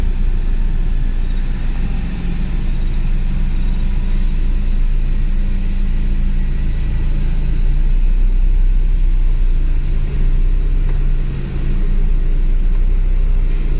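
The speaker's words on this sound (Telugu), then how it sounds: "లారీ ఫుల్ లోడ్ వెళ్తుంది కదా." A fully loaded lorry grinding along a ghat road near Paderu, a heavy, constant low engine rumble and drone that stays loud and near for the whole stretch, with no voices.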